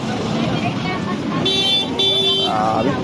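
Busy street traffic near the Malabon fishport in a crowded market area, with car horns honking in a couple of sustained blasts over a steady roadway rumble while people talk nearby.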